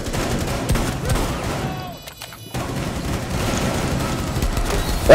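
Shotgun gunfire in a video game crackles in dense, overlapping blasts with a brief lull midway, then resumes loud and close, with faint voices underneath.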